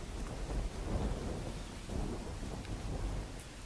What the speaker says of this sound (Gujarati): રાંદેર અને જહાંગીરપુરમાં વરસાદ વરસી રહ્યો છે